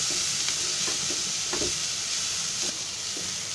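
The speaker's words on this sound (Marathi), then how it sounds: "आता त्याच्यामध्ये टोमॅटो टाकते, ते पण असं भाजून घ्यायचं" Tomatoes and garam masala sizzle steadily in a hot pan, with soft scraping and stirring knocks over a constant frying hiss.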